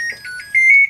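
A Panasonic automatic washing machine sounds its power-on chime: a short run of clear, loud electronic beeps ending in a longer sustained tone, close and alone.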